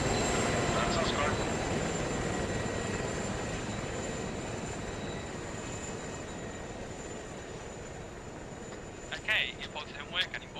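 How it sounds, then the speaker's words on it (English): Helicopter engine rumbling as it powers up in a tactical shooter video game, a steady broad drone throughout with brief sharp game sounds near the end while players talk over it. "if I'll do the brief when there's not a helicopter powering up"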